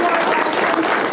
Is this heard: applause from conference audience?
yes